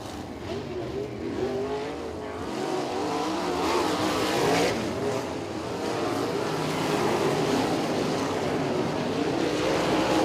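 Boss sprint cars race at Kokomo Speedway, a dense, continuous roar of several engines blending together, with pitch wavering as cars pass, loud and steady throughout.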